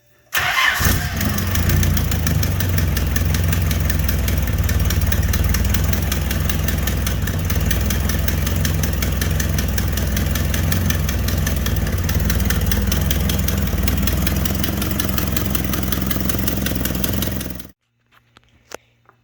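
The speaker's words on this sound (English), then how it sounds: "now that she runs nice and smooth, fired right up, minus the starter grind" Nissan S12 Silvia with an FJ20ET engine cranks and fires, then idles loud and steady close by for around seventeen seconds before cutting off, with no talk.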